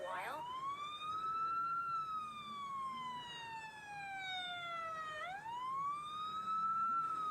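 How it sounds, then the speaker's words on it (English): A fire truck's wailing emergency siren rises and falls in long sweeping cycles, steady and fairly clear at moderate distance, with no talk over it. "the sirens are always bloody loud"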